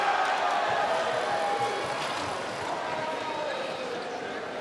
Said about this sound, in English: The crowd rise, urging the home team on.